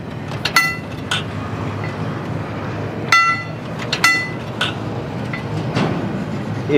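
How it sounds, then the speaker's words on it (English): An old Santa Fe Railroad signal bell, displayed at a historical society in Fort Madison, Iowa, rings in a few sharp metallic clangs, spaced irregularly over a steady background hum. "makes a bell sound when it"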